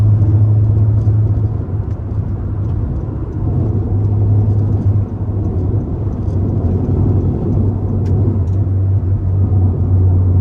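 A 2013 Honda Civic Si with aftermarket cats fitted cruises along, its steady low exhaust drone and road rumble filling the cabin loudly and continuously with no talking.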